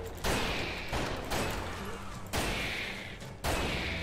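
Gunfire in the dinosaur shooter game Primal Carnage Extinction: four heavy booming shots spaced about a second apart, each decaying into a long rumbling tail, at moderate level.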